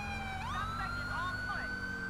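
Police car siren in the GTA 5 video game with the LSPDFR police mod, wailing in rising and falling sweeps over a steady engine drone, loud and close.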